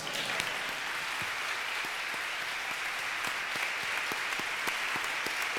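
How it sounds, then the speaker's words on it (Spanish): A concert crowd at a recital in Casa Rosada breaks into steady, dense applause, many hands clapping continuously at an even level throughout. "también un gran aplauso"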